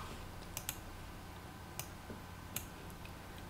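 A computer mouse gives several faint, sharp clicks at irregular intervals over a quiet background hum while using Inventor CAD software.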